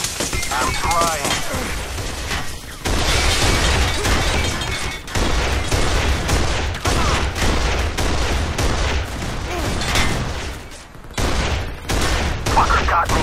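Sustained gunfire from the video game Kane & Lynch: Dead Men, dense bursts of shots and impacts filling the scene with brief gaps, loud and close, with voices shouting over the battle.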